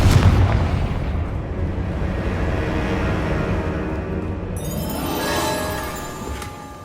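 A Confringo blasting spell explodes in Hogwarts Legacy, a loud booming blast that rolls out into a long rumbling decay, followed by a brighter magical shimmer and burst.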